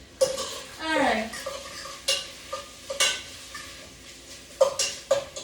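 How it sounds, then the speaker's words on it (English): Bacon frying in a pan, a soft sizzle beneath clinks of a utensil and pan handling, with intermittent scrapes and knocks in short bursts. "Bacon's browning up nicely."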